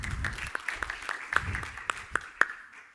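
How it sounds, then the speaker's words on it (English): A small audience at a conference talk on secure data transfer claps, a thin patter of applause with a few sharp, distinct claps standing out, fading toward the end. "Round of applause."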